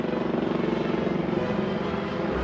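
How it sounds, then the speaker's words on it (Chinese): A helicopter's rotor thuds in a steady, rapid rhythm, a loud droning pulse that holds constant for the whole stretch. "helicopter 声音特别大。"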